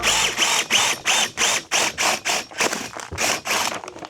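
A drill bores up through a wooden joist in a cramped loft space, its motor labouring in a steady run of rhythmic grinding bursts, close and fairly loud, with no talking.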